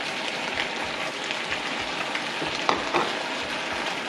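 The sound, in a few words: pineapple added to sizzling sweet and sour chicken pan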